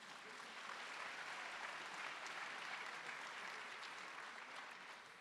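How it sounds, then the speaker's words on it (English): Sustained applause from a graduation ceremony crowd at a school of the arts, honoring seniors' scholarship awards; a steady, dense roar of clapping holding evenly for several seconds, somewhat distant in the hall. "Seniors, yes, you can applaud for that."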